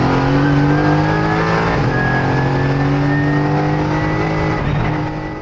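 A Mercedes AMG GT4 race car engine drones loud and close at steady high revs, holding a sustained tone with slight pitch shifts and a brief dip near the end.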